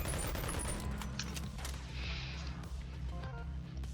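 SMG fire in the VR game Boneworks: rapid clusters of sharp shots rattle over a low droning background, continuing for several seconds with no one speaking.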